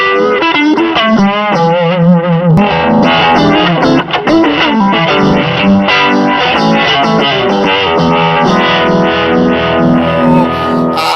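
Electric guitar run through a Zoom multi-effects stomp pedal, heavily distorted with echo and modulation, playing loud, continuous chords and notes alone with no talking.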